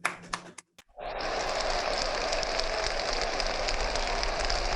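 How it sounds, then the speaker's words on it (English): An audience at a community impact breakfast breaks into applause after a brief pause, a dense, steady wash of many hands clapping that holds at an even level to the end. "let's give them all a round of applause"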